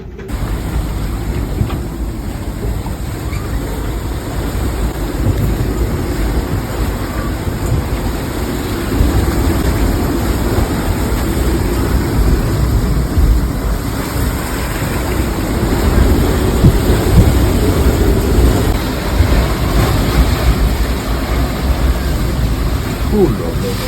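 Strong gusting wind roars over a sailboat at sea during an ocean crossing, with waves surging and washing around the hull in a continuous, loud, rushing din that swells in intensity midway.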